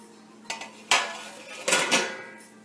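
A spoon scrapes and clinks against a cooking pot while stirring sweet milk wheat dalia, a few short metallic scrapes and knocks, close and fairly quiet.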